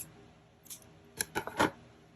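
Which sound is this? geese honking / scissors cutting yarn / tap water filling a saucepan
scissors cutting yarn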